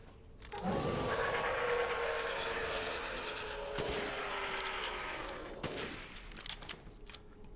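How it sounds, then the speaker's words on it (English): A sniper rifle fires in Resident Evil Village: one heavy shot booms with a long rumbling tail, then two more sharp cracks follow several seconds apart, fairly loud with no voices over them. "Maybe best to hit him with the sniper rifle."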